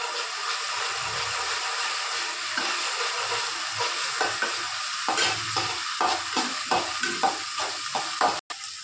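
Ingredients for semiya khaima upma fry in a pan with a steady sizzle. A run of quick, rhythmic stirring scrapes and clinks starts partway through, with no voices.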